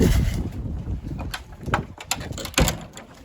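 Gusty wind buffets the microphone in uneven bursts, with a few sharp knocks and rattles mixed in, no voices.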